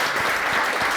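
Audience at a Miss Universe Ireland event clapping on cue, a dense, loud, continuous burst of applause with no gaps, lasting about a second.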